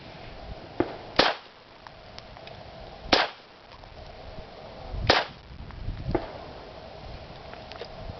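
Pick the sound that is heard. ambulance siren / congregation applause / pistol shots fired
pistol shots fired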